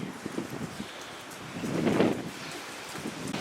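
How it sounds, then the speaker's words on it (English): Gusty wind rushes past in an upper residential neighborhood on Hydra Island, Greece, swelling to a louder gust midway before settling back to a steady outdoor roar. "It does promise to be a pretty day today, although very, very windy."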